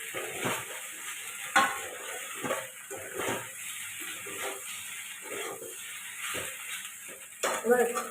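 Fried manchurian and macaroni tossed together in a pan, with rhythmic spoon scrapes and clinks against metal over a soft sizzle at close range, and a voice talking at times.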